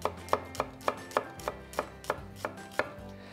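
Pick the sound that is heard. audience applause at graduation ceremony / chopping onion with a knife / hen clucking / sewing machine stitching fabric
chopping onion with a knife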